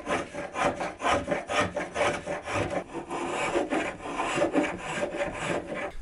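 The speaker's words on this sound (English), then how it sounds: "I'm sawing through both tops at once to save time" Turning saw cutting through two stacked wooden tabletops at once for bedside tables, a quiet rhythmic rasping of repeated back-and-forth strokes at a steady pace.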